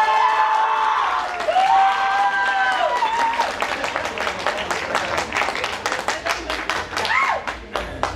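Audience clapping at a drag show contest, with speech and tonal voices over the top early on, then steady mid-distance applause rising in dense patters through the rest.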